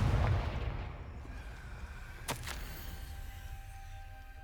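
Confringo spell explosion from the Hogwarts Legacy video game: a deep, booming blast at the start, then a sharp crack midway, decaying into a rumbling tail with no speech.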